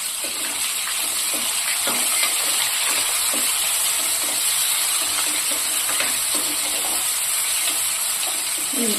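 Onions frying in a pan with lentils for a Telugu puha recipe, a steady close hiss of sizzling with faint scattered pops and no talking.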